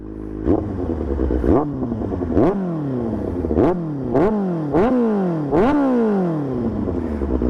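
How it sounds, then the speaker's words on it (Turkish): A motorcycle fitted with a new aftermarket exhaust idles with a loud, rough clatter, then blips the throttle in about six sharp revs that rise and fall back in steady succession, close and dominating. "motor motor yerinde titriyor bak yemin ederim motor titriyor."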